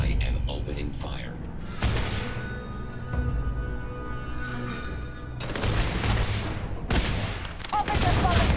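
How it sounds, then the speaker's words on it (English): Video game gunfire from Starfield erupts in loud, dense bursts of rapid shots, separated by quieter stretches with voices in the mix. "I am opening fire."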